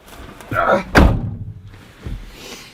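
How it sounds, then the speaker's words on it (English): A Chevrolet Suburban door thuds shut with a single solid slam, preceded by some shuffling and followed by a softer bump. "Close this door."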